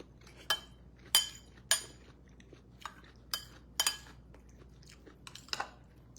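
Sharp, crisp crunches from close chewing, about a dozen bites at irregular intervals with quiet pauses between.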